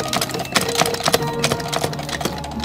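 A Singer sewing machine feeds cloth forward past its feed dogs, giving a close, quick mechanical chatter of repeated clacks and ticks that stays uneven but continuous throughout, with no talking.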